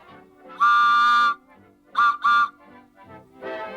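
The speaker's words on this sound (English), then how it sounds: "This is a whistle that comes off of the Helms Bakery." An old Helms Bakery whistle is blown nearby: one long loud steady tone, then two short bursts, with a hollow, breathy pitch and nobody speaking.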